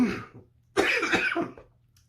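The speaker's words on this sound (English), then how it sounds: "Sorry about that little coughing fit." A burst of harsh coughing, a few rough hacks in quick succession after a short earlier cough, close to the microphone, then silence.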